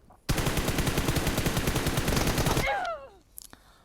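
Sustained rapid automatic gunfire from PUBG Mobile rattles in a loud continuous burst for over two seconds, then cuts off with a falling ringing tail and a couple of faint later clicks.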